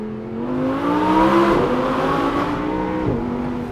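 A loud Audi R8 V10 sports car engine revs and pulls through gears, its rising whine dropping twice at shifts, close and continuous.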